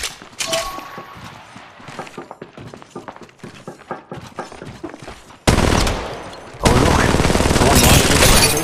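Bursts of automatic gunfire in the mobile shooter Apex Legends Mobile, starting as scattered rapid shots under voices, then turning into loud, sustained fusillades near the end.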